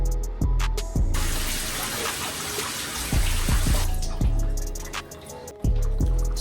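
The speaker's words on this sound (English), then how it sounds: "I'm gonna be shampooing my hair." Running water pours steadily and loudly throughout while hair is shampooed, with wet splashing and a few thumps and knocks breaking through the rush, close up, with no talking.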